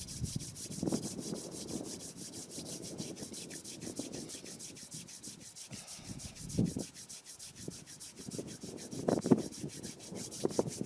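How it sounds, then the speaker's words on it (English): Hands rub together during a breathing exercise session, making a soft, steady swishing friction that lasts about eleven seconds, faint and close with small irregular swells. "Rub your hands."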